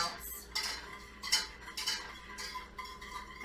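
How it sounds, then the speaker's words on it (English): A metal whisk clinks and scrapes against a pan as melting cheese sauce for chicken enchiladas is stirred, giving a run of close, irregular metallic taps and swishes with no talking. "you're going to want to get your whisk out and just move this around"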